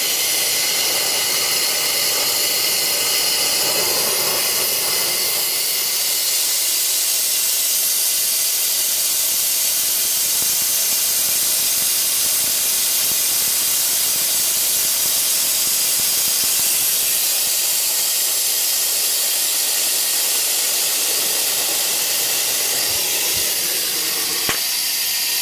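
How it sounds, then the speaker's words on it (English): Nitrogen gas blows steadily through a Carrier multiple-orifice manifold in a rooftop unit, a continuous loud hiss lasting the whole stretch with no speech over it. "that's blowing through quite nicely"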